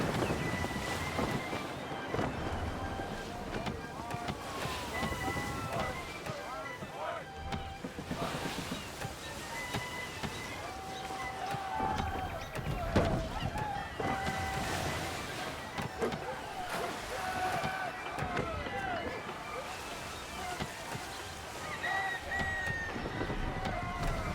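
Wind gusts and a sailing ship creaking at sea in the Assassin's Creed 3 video game, a continuous broad roar with rushing wind throughout, clear and unbroken for the whole stretch.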